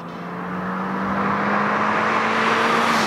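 A Ford Fiesta ST engine drones steadily under acceleration on the Autobahn, the tone climbing gradually as the car picks up speed, heard from inside with no voices.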